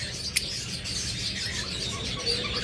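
A pair of lovebirds, a lutino Fischer's and a split blue opaline, chirp in an aviary with short high tweets over a soft, noisy background.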